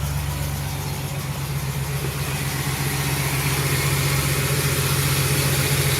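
A 2008 Chevrolet Express van engine idles after an engine swap, a steady, even low hum with a smooth rumble that holds unchanged throughout, close and fairly loud with no voices.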